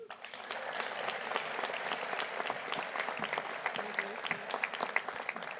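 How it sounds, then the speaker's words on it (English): Steady, crisp applause from an audience at a college midyear graduation recognition ceremony, continuous clapping with no voices heard over it. "Let's give another big round of applause for our Gettysburg College graduates."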